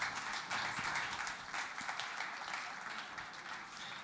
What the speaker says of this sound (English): A warm round of applause for our speaker.